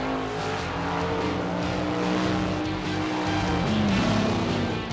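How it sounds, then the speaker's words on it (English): Mud bogging trucks running on nitrous oxide, with engines roaring loudly in a steady, continuous drone and shifting pitch as they race side by side. "in mud bogging, instant horsepower is created by just hitting a button"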